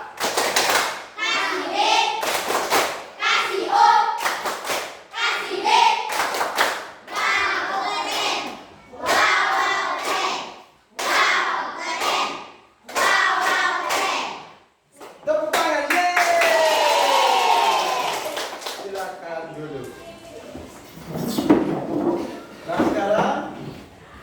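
Children in a classroom clap their hands in short rhythmic bursts, with loud group shouting and chanting between and over the claps.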